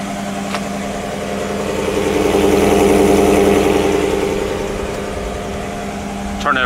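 A 2017 Ford F-150 pickup's 5.0 V8 engine idles steadily after a remote start, a low, even rumble that swells slightly in the middle and stays close, with a click near the end.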